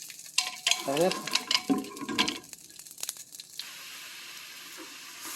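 Mashed split-lentil dal, small moong dal, is poured into a pan on a low flame, with a few wet splashing pours and clatters followed by a soft, steady sizzle.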